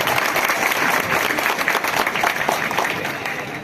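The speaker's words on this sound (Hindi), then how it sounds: "एक बार जोरदार तालियां बजाएं विधायक महोदय जी के लिए।" A crowd at an outdoor public gathering in a tehsil compound in Dongargarh, celebrating Ambedkar's 132nd birth anniversary, claps loudly for a local MLA, with steady, dense applause continuing throughout without fading.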